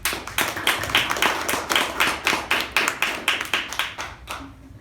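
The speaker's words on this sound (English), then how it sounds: "a big round of applause for all the role takers" A small audience claps at a speaking-club meeting, with close, crisp hand claps in a quick, uneven patter that stays lively for several seconds and then stops abruptly.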